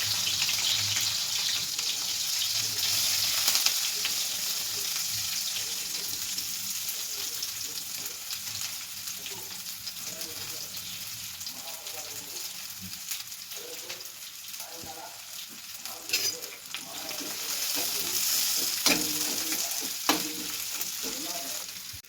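Sliced onions sizzle and crackle steadily in hot oil for vegetable dum biryani, with intermittent scraping and stirring of a spatula through the pan, close and continuous with no talk.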